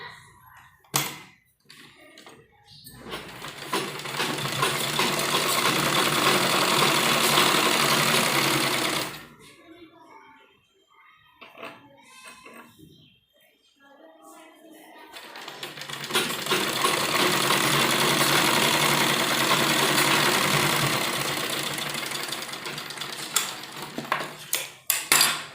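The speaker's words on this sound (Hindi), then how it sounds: "तो देखिए इस तरह से हमें इस पर कच्ची सिलाई लगानी है" Sewing machine running in two long bursts while stitching a loose basting seam on a kurta sleeve, steady and close, with a quieter gap of handling sounds and soft speech between the runs.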